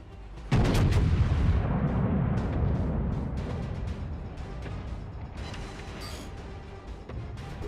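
Heavy naval artillery roars in a warship video game, one loud boom at the start rolling into a long rumbling decay with scattered distant blasts afterward; no talking.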